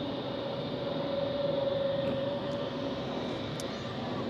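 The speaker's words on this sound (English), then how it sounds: "A320neo just arrived" An Airbus A320neo airliner arriving at Zurich Airport in fog gives a steady, moderately distant roar with a faint whine, heard alone without talk.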